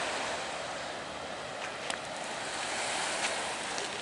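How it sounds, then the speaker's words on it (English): Open-ocean surf on a beach at Sechelt, British Columbia: a steady, broad wash of breaking waves with constant hiss and rumble throughout, no voices. "It's the beach on the open ocean."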